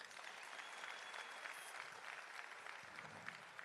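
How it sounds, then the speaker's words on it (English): A crowd at a provincial party conference claps for a youth league president, dense and continuous but quiet and distant. "Can we give Comrade Collen a nice round of applause?"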